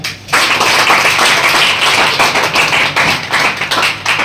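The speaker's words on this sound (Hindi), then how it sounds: "स्पीच के लिए निमंत्रण करते हुए सामने में जोरदार तालियां।" Loud, close audience clapping at a children's academy opening ceremony, a dense sustained burst of many hands that starts abruptly and runs on with no talking.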